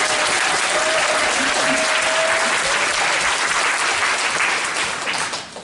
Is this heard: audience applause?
yes